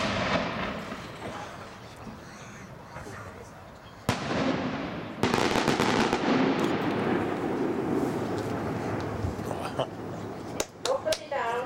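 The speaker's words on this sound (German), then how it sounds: "Die nächste Bombe wieder eine, die nicht unbedingt in die Kategorie des Silent fällt, Zündpunkt 109, Double Red and Green Ring to Report." Aerial bursts from 125 mm firework shells, a double red and green ring to report, with sharp loud reports and crackling over a noisy crowd and talk, several cracks near the end.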